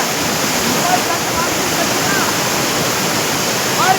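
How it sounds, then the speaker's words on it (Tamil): Water rushes along the right irrigation canal in a steady, loud, unbroken roar that fills the whole stretch with broadband noise. "பாருங்க வலது வாய்க்கால் தண்ணி பாருங்க"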